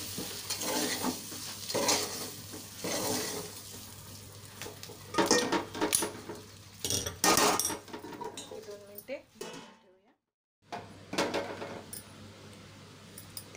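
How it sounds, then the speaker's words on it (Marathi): Spice masala is stirred into stuffed green capsicum cooking in a pan, with soft intermittent scraping and a low sizzle and a short silent pause near the end. "आपण राहिलेला सर्व मिक्स मसाला मिक्स करून घेऊया"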